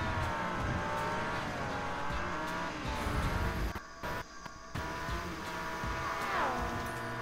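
A car in the racing video game Matchbox Driving Adventures drives with a steady engine drone, with brief dips in the noise and a tire squeal near the end.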